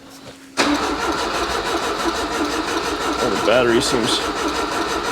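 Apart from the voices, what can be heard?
abandoned Volvo P1800 engine briefly starting and running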